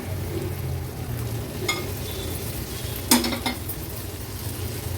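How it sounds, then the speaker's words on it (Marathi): Onions being sautéed with turmeric and chopped green chili in a pan over a medium flame give a steady low sizzle, broken by a few brief scrapes and clinks of a spoon against the metal. "मिरची आता आपण कांद्यामध्ये छान परतून घ्यायची आहे"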